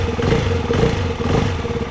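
A Ducati Hypermotard 698 Mono single-cylinder supermoto engine runs loud and close as the throttle is turned, giving a steady, gruff, throbbing drone with slight surges and no voices.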